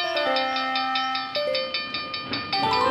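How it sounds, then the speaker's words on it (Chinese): A cartoon train passes a level crossing in a children's animation, with whistle-like tonal blasts and rhythmic clacking pulses at a steady moderate volume, alone without talk. "等一下，阿布，一辆火车开过来了。"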